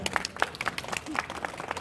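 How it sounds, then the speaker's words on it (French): Audience at a Japanese culture convention in Nantes clapping for Julia, a short burst of crowd applause with speech-like murmur mixed in. "On applaudit Julia quand même."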